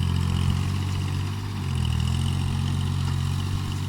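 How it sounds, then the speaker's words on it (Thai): A farm tractor with a rotary tiller runs in a flooded rice paddy, its heavy diesel engine thrumming steadily nearby with a brief dip in the middle. "รถไถนี่จะเดินหน้าถอยหลัง โรตารี่มันก็หมุนนะครับ"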